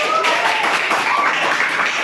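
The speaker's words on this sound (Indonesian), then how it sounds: "Luar biasa, tepuk tangan." Classroom hands clapping in a short, steady burst, close and fairly loud, with a voice faintly audible over it.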